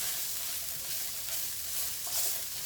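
Onions and arborio rice fry in a pan for risotto, cooked to a light brown, giving a steady, even sizzling hiss that stays close and continuous with no voices.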